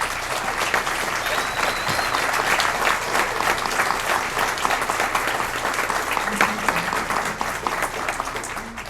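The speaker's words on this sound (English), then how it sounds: "let's give a big hand of applause for these folks" A crowd at a candidates forum in Revelstoke claps steadily, a dense, even patter of applause that holds for several seconds at moderate distance.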